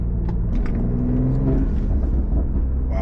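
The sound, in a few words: BMW M340i with MHD Stage 2 tune engine accelerating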